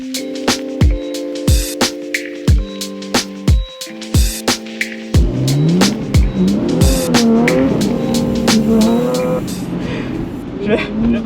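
A small Nissan Z car drifting, with repeated sharp tire squeals and engine revving, close and loud, and excited voices shouting over it toward the end.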